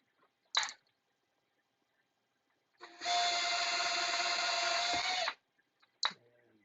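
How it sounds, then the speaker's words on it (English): A power drill bores holes for reefing work, one steady whining burst of about two seconds between short sharp clicks and knocks, close in a quiet setting. "no more making holes, no more drilling."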